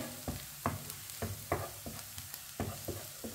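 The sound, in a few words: leftover rice dish cooking in a pan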